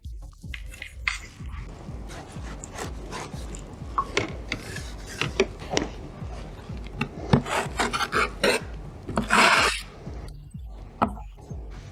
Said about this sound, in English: So I will use the smooth side of the trowel,